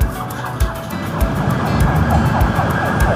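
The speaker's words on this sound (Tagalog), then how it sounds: "Ayan na, ambulansya." A loud ambulance siren wails close by on a road amid traffic, its repeating tone sweeping up and down over engine and road noise, with no talk.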